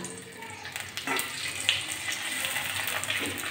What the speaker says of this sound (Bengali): আগে সাবুর পাঁপড়গুলো ভেজে নেব, তারপরে আলুর পাঁপড় ভাজবো